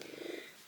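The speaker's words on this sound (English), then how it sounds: "you can hear the binks purring" A house cat purring close by, a brief low rumbling breath that fades toward the end, with no talking.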